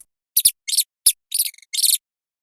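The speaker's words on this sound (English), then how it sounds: "Mouse." Cartoon-style mouse squeaks from an animal sounds game: about six short, high chirps in quick, uneven bursts, close and clear, separated by silence.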